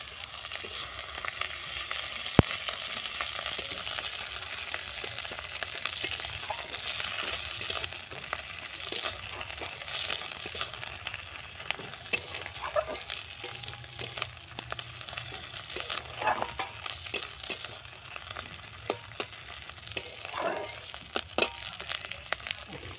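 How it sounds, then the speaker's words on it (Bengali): Ginger paste fries in hot oil in a pan alongside already fried ruli fish, a steady close sizzle with scattered stirring scrapes and clicks running throughout. "এরপরে দিয়ে দিলাম আমি আদা বাটা,"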